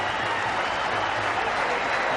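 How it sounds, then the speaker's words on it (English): Cricket crowd and the Pakistani team clapping a batsman's half-century in a one-day international against India in 1999, a dense, continuous wash of applause at steady volume. "There you see the Pakistani camp applauding his effort."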